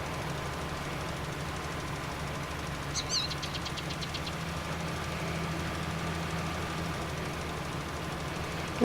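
A farm vehicle engine in Farming Simulator 19 hums in a low, steady, quiet drone while driving, with a brief burst of high chirping near the middle.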